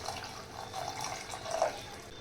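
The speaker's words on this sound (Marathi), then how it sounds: "आता इथे मी थोडंसं पाणी ॲड करणार आहे।" Water is poured into a fried egg masala gravy, a soft continuous trickle and splash lasting a couple of seconds, moderately quiet and close with no talking.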